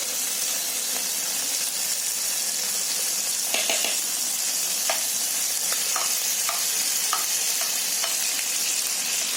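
Ginger garlic paste sizzles steadily in a pan for a Konkani mutton dish, a constant frying hiss broken by occasional light scrapes and clinks of stirring.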